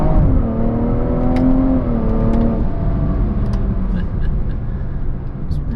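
A BMW F30 340i with a stage 2 transmission tune pulls hard through the gears on paddle shifters, engine tone climbing then dropping at each quick upshift, heard from inside the car over steady road noise.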